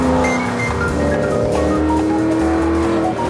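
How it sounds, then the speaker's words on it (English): Ford GT supercar engine running loud and close, a dense continuous mechanical roar with steady low rumble and some whine, without speech. "This is the Ford GT supercar."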